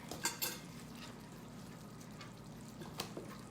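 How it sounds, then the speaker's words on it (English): Bananas being stirred through caramel in a pan, a soft continuous scraping and gentle sizzle with a few brief clinks of utensil against the pan, close and fairly quiet. "Stir, stir, stir. Get it all coated with this caramely fantasticness."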